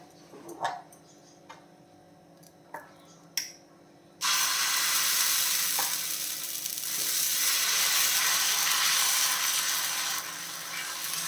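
Wheat dosa frying in oil on a hot dosa pan, a few soft clicks and taps, then a sudden loud, steady sizzle that hisses on close and alone.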